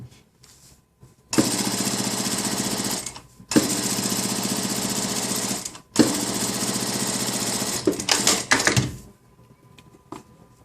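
An industrial sewing machine stitches the side pocket of a skirt, running in three loud, fast, steady bursts of several seconds each with short gaps, the last one tapering into quick stops.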